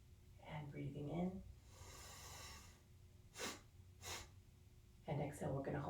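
A slow, deep yoga inhale taken during a gentle hip and low-back stretch: a soft, airy rush of breath lasting about a second, with a calm voice talking before and after it.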